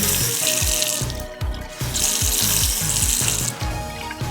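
Water runs from a Moen two-handle bathroom faucet into the sink, a loud, close, continuous splashing stream with a few brief dips as the flow is adjusted.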